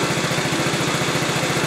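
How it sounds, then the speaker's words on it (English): A 2013 TaoTao scooter engine idles steadily close by, with a quick, even low putter and a constant mechanical buzz throughout, and no voices. "but it is idling"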